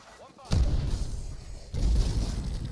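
Grenade launcher blasts in Call of Duty Cold War Zombies, two heavy booming explosions about a second apart, each followed by a sustained rumbling roar, loud and close.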